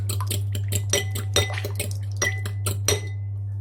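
A utensil scrapes and clinks against a bowl while cake batter is stirred, giving quick, uneven taps and knocks over a steady low hum, then ending in a brief quiet tail.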